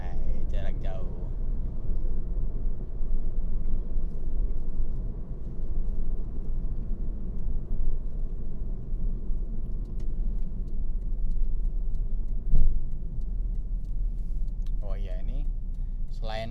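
A Mazda Premacy's engine hums and rumbles steadily from inside the moving car in drive, a continuous low drone with a brief louder bump partway through.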